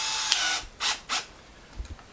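Regular drill bit being fitted into a power drill, a few short mechanical clicks and two quick whirring bursts close by, separated by brief pauses, with no talking.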